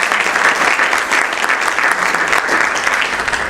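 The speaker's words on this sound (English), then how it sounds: "Would you please give them a round of applause at least?" Audience at an American University of Sharjah event applauds visiting students, steady dense clapping filling the room at close range with no talk over it.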